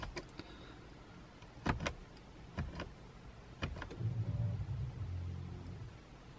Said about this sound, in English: Now what we're going to do is prime the fuel pump.